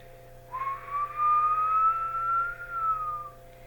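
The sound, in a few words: imitated whistling noise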